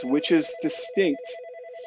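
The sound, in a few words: phone ringing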